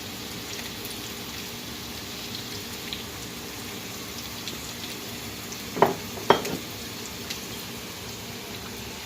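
Potatoes frying in a pan, sprinkled with salt, parsley, garlic and herbs, give a steady soft sizzle throughout, with two short sharper clinks or scrapes partway through.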